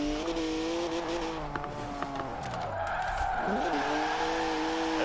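A BMW Z4 in Forza Horizon 4 drifts on the handbrake, its engine droning steadily while the tires skid and squeal through the slide, rising toward the end.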